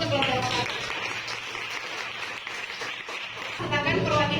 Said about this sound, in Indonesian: silakan tepuk tangan dulu untuk kelompok